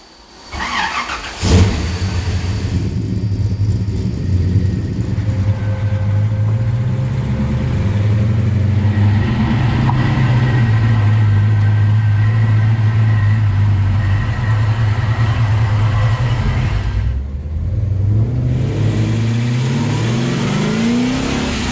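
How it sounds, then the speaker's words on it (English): A Tri-Five Chevy with a newly installed high-clearance front sway bar starts up and drives, its engine revving and droning steadily up close, rising and falling with gear changes, with no talking. "I'm out driving the car."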